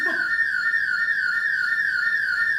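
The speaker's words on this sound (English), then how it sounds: "I think that's a house alarm, actually." A house alarm going off outside near a backyard gives a loud, unbroken electronic tone that holds steady at one piercing pitch for the whole stretch, with no one talking.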